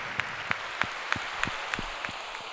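An audience at an annual meeting claps for the volunteers, producing a faint, evenly spaced series of single claps about three per second, with no talking.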